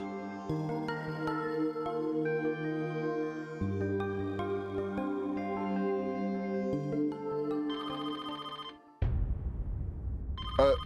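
A telephone rings with a melodic electronic ringtone playing a sustained chiming tune, steady and fairly loud, then cut off by a brief noisy burst near the end.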